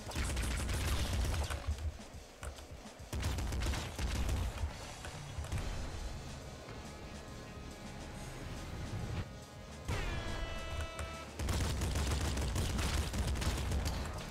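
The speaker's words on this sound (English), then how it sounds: "No, machine gun fires pretty fast." A machine gun fires rapidly in the Nuclear Throne video game, quick chattering bursts with crashes and impacts, moderately loud and recurring throughout.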